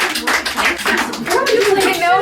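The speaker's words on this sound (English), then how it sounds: "What a round of applause." Audience clapping after a question-and-answer exchange at a live Q&A show, loud and close, with voices talking over the applause throughout.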